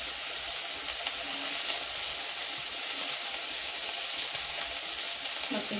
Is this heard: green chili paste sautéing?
yes